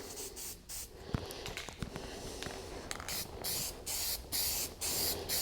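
Short hissing bursts of aerosol dye sprayed in a light coat onto a Sparco steering wheel from an MR2, made for plastics, vinyl and suede; several close, even passes with brief gaps between them, no talking.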